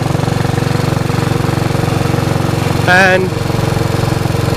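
A Royal Enfield Bullet Machismo 500 motorcycle engine thumps at a steady idle-like rhythm, loud and close, with a brief whining tone rising over it near the end and a short spoken word.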